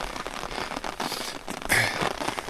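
Rain falls on an umbrella and rain gear on a mountain trail, a soft, steady patter with irregular drips, close and fairly quiet, with no voices.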